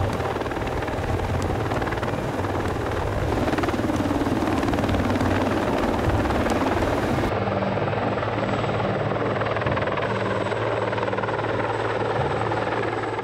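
A CH-53 heavy transport helicopter flies with a Crayler FLG remote-controlled field loader slung beneath it. Its loud, steady rotor and engine roar runs unbroken throughout, with no voices.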